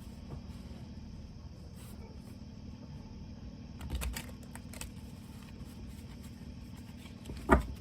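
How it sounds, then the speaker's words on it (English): Tarot cards being shuffled, soft, quiet riffling and tapping in a few short bursts over a low background hum, with a sharper tap near the end. "Let's do some shuffling."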